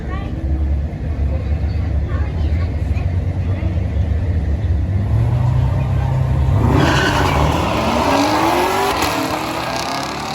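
A Camaro ZL1 and a ZL6 with unknown modifications launch down a drag strip, engines roaring loud and then rising in pitch as they accelerate away, while people talk.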